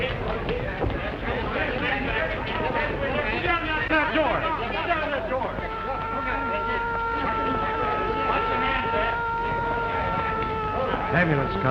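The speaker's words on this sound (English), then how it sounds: "Ambulance, Colin." Ambulance siren wailing in a steady rising and falling tone at a 1932 crime scene, heard under overlapping voices and background bustle.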